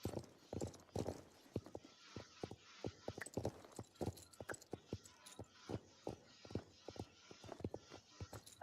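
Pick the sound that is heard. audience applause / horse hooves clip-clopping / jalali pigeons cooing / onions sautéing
horse hooves clip-clopping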